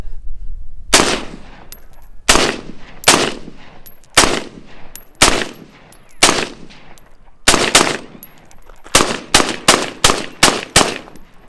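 A 5.56 rifle firing full auto at long range outdoors, sharp loud reports in short bursts and rapid strings, each shot ringing with a long echo tail, no speech over the shooting.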